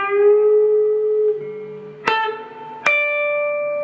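Electric guitar half-bend lick in a blues style: a long sustained note, then two sharp picked attacks that ring clearly on their own, with a slight pitch shift.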